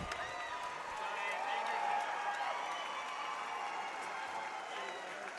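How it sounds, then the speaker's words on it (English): A crowd at a fight event applauds the fighters, a continuous, moderately distant wash of clapping and cheering that swells slightly in the middle, with voices blended into the arena noise. "Ladies and gentlemen, please give these fighters a round of applause tonight."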